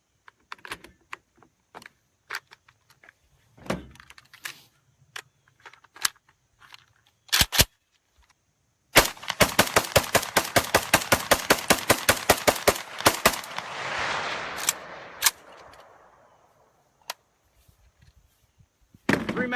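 A rifle fires at a shooting range with Pro mag magazines: scattered single shots, then a fast, loud sustained string of rounds with echoing reports, followed by a few more isolated cracks.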